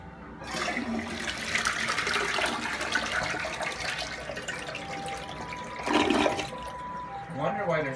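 A toilet flushes on the small flush button with a rushing swirl of water that drains away, then a brief gurgle and refill hiss, close by.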